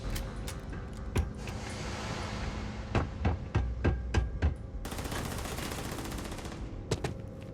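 Rapid bursts of automatic gunfire from a weapon in the space video game Starfield, several short volleys of sharp shots in quick succession over steady background game ambience.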